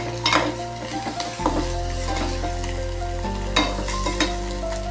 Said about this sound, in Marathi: भुर्जी शिजत आहे.